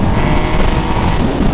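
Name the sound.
Yamaha MT-09 motorcycle engine and exhaust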